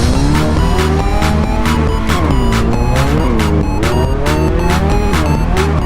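A car drives in a Roblox game with loud, sustained tire squeals and skids, the engine tone rising and falling continuously in the foreground with no talking.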